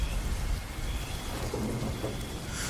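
Steady heavy rain pours down with a deep, continuous rumble of thunder underneath, loud and enveloping, no voices.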